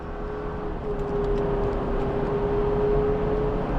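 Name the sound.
turbo engine noise of Chevy Traverse Z71 driving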